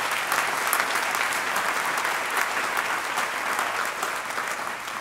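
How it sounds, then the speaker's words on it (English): A large audience applauds student singers at a university inauguration ceremony, a steady, dense wash of clapping from many hands that holds evenly for several seconds with no voices above it. "they deserve another round of applause"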